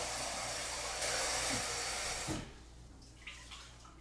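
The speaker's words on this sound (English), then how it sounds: "You want to wash the rice. Okay. I'm going to do one more." Rice being washed by hand in water, a steady rushing splash of running water that cuts off midway, followed by a few faint wet swishes and drips.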